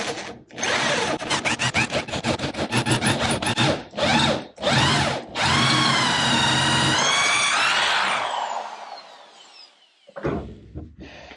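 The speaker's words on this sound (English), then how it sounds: "I'm going to go drill one of the holes in my fixture plate to 3/8" A power drill bores a 3/8-inch hole through a metal fixture plate in bursts, its whine rising and grinding with the load, then easing off and stopping as it breaks through.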